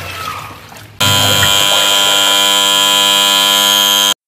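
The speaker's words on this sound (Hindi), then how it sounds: "बजने लग जाएगा, आवाज़ होने लग जाएगी, तब हमारे कपड़े धुल जाएंगे।" A Godrej washing machine's buzzer sounds at the end of its wash cycle: after a quieter second of background noise, a loud, steady electronic tone starts abruptly, holds for about three seconds, then cuts off sharply.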